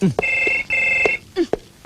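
A telephone rings in an office during a comedy scene: two long, steady electronic ring tones, fairly loud and close, with brief voices cutting in between the rings.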